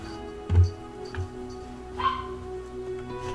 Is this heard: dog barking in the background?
yes